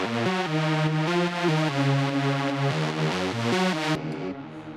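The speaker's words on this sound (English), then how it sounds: "So this is what it normally sounds like without a trance gate." A Serum software synth plays a sustained guitar-derived melody for a techno edit with no trance gate, so the notes flow smoothly, loud and up front, before cutting off near the end; no one speaks.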